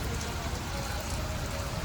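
Heavy rain pours in a dense, even roar that holds steady throughout, close and loud, during a bicycle journey through a downpour.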